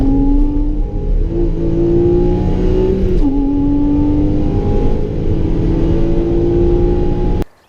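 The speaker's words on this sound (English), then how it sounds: "So I just went on a track day with the Porsche Boxster here at Donington Park." A Porsche Boxster lapping a wet Donington Park circuit on a track day, its engine droning steadily and close with rising pitch sweeps as it accelerates, a brief gearshift dip midway, then cutting off abruptly at the end.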